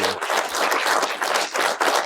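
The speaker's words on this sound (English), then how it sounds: "Let's give a big round of applause here for Freddie" A small audience applauds a stunt professional at the close of a conversation, a close, busy patter of clapping hands that swells and dips over two seconds.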